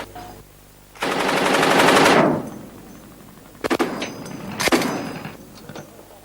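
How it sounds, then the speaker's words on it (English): An Indian Army machine gun fires a loud, dense burst at close range. Separate bursts and metallic clangs follow in the seconds after, with no voices. "There of course is no substitute for a machine gun while learning to use it against ground targets or as an effective anti-aircraft weapon."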